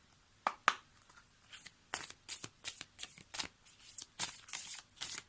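A deck of oracle cards is riffled and shuffled up close during a card reading, with repeated crisp, papery bursts in a quick, irregular rhythm.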